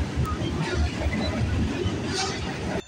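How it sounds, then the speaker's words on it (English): A VIA passenger train approaches on the line, a loud, steady rumble and rolling rail noise filling the scene, with a faint high squeal partway through before it cuts off. "we got a VIA train coming down the line"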